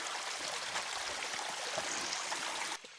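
Steady broadband rush of water flowing into a pool in a forest, continuous and close, cutting off abruptly near the end with no voices over it.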